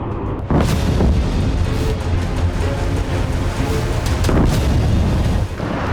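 Loud, continuous rumbling blasts from a series of drone strikes on an airbase, deep booming roars that swell and overlap, a heavy wall of explosive noise with no voices.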